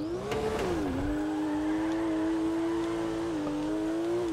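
A Nissan GT-R in the video game GTA 5 holds a loud, sustained engine note while drifting, with the pitch dipping and rising briefly as it slides, heard alone and clear.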